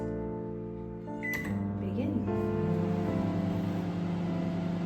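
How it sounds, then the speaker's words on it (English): A steady microwave oven hum with a low mains drone, starting after a beep and a door-like click, running continuously at moderate level. "So now let's add it into our microwave."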